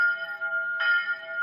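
A farm bell in the Depression era rings with a steady, sustained metallic tone, struck again partway through so that the ringing swells, heard alone and fairly close.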